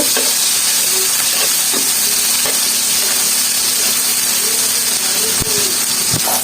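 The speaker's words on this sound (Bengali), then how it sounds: "সব দিয়ে এখন ভাজবো। রসুন পেঁয়াজটা একটু ভেজে নেব।" Garlic and onion frying in a pan for a taro-leaf stir-fry, a loud steady sizzle and hiss filling the whole stretch, with occasional faint stirring clicks and no talking.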